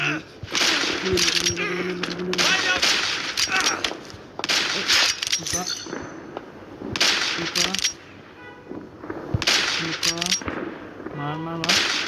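Gunfire in a World War 2 shooting video game comes in repeated bursts of sharp shots and automatic fire. Excited voices talk over much of the action.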